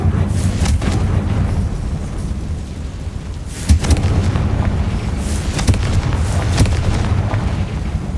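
Blasting Confringo spell in Hogwarts Legacy, heard as a dense, continuous rumble of booming impacts with sharper bursts near the middle and later, loud and sustained throughout, with no talk.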